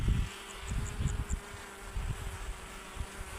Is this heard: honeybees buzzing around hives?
yes